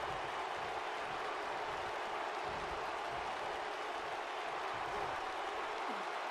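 Steady arena crowd roar from the WWE 2K19 wrestling game during a triple threat match, a dense continuous wash of cheering with no break, at moderate level and fairly distant.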